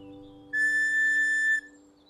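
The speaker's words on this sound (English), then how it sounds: "I'll toot the beat on my whistle for everyone to hear." A single cartoon whistle toot holds one steady, bright tone for about a second over soft background music, then cuts off.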